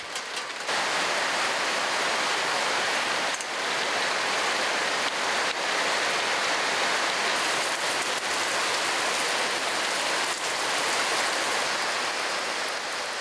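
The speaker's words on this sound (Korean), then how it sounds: "결국 가을비가 내립니다" Autumn rain falls steadily outdoors, a dense, even hiss of drops that stays at a constant moderate level throughout, with no talk.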